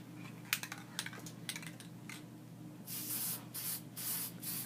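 Short hissing bursts from a Krylon Triple Thick spray can laying down a light coat indoors over a garbage can, faint and close, first scattered quick puffs then a longer series of sprays.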